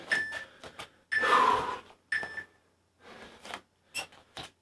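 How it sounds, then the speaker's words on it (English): A high electronic beep repeats several times with gaps, mixed with short clattering knocks nearby. "That beeping is getting a little bit annoying."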